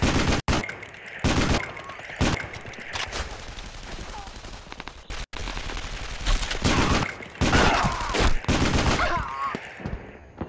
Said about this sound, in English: This MG's crazy.